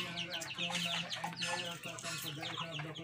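Backyard chickens clucking close by in a small farm yard, busy overlapping clucks and squawks with a faint voice underneath.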